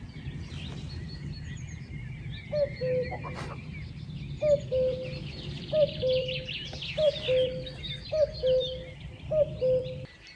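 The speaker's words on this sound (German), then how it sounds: "Der Kuckuck sitzt jetzt direkt über mir im Baum." A common cuckoo calls from a tree directly overhead during a roebuck hunt in the Oste valley, its paired two-note calls repeating steadily about every second and a half against busy background birdsong and a low rumble.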